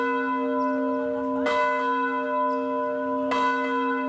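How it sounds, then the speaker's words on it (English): The Angelus bell hanging above a winery rings twice, each loud struck note followed by a long, shimmering sustain that lingers between strikes. "named after the Angelus bell, which sits above the winery, and we ring whenever guests visit"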